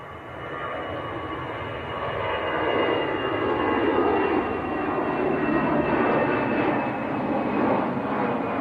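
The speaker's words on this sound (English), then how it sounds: "Got Lufthansa just blasting off." A Lufthansa jet takes off at Manchester Airport, its broad engine roar rising and then holding steady at a distance, loud and continuous with no voices.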